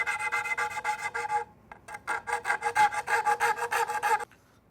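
Rhythmic rasping strokes of coarse 100-grit sandpaper shaping a wood-turned yarn bowl, a short burst then a steady run of quick back-and-forth scrapes, close and fairly loud.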